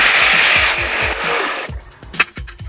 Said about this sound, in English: So let's see if we can cut through this steel stud.